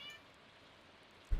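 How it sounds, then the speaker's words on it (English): A cat gives a single short meow close by at the very end, after a second of near silence. "Meow. Your cat agrees."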